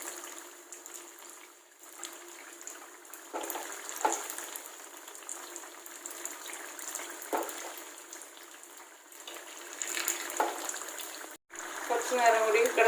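Ragi unniyappam frying in oil in a pan, a steady close sizzle and bubbling crackle that swells toward the end, with someone speaking over it.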